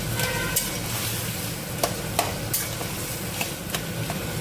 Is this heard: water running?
no